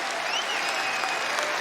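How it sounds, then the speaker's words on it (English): Crowd in the arena at a Kentucky vs Indiana women's college basketball game applauds, a dense, even wash of clapping that holds steady and sounds somewhat distant. "You hear the applause."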